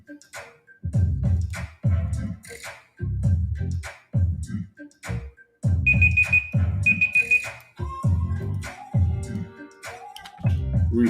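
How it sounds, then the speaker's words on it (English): A quiz countdown timer alarm goes off in a steady run of loud, evenly spaced pulses, each about a second long, with a brief high electronic beep ringing out partway through. "Let's get that timer up."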